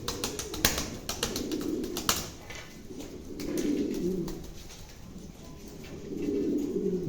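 Zebra-patterned female pigeons coo in low, rolling phrases that come and go in three slow swells, close by, with scattered sharp clicks and taps in the first couple of seconds.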